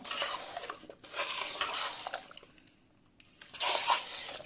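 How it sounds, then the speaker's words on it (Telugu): Cooled tempering being stirred into tomato pickle, giving soft wet squishing and scraping in two bursts with a quiet pause between them, close up with no talk. "చల్లార్చిన తాలింపుని నేను ఇలా పచ్చళ్ళలో కలుపుకుంటాను"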